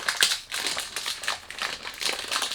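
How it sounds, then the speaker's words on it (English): Dark cardboard perfume packaging for Bentley Momentum Unbreakable being handled during unboxing, a close, quiet run of crinkling, scraping and rustling with irregular bursts and no talk. "Sorry about the noise when you do unboxing"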